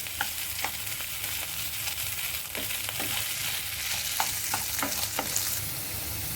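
Grated ginger frying in a pan for a carrot and spinach dish, with a steady close sizzle broken by scattered stirring clicks and scrapes of a utensil against the pan.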